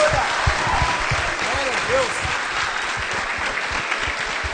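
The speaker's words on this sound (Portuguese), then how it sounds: "Aplauda o Senhor." A church congregation applauding during an Easter cantata service, steady full clapping throughout with a voice and faint music underneath.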